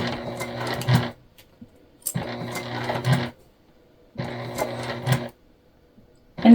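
A sewing machine stitches webbing in three short bursts of rapid mechanical whirring, each about a second long, separated by quiet pauses, with a fourth starting at the end.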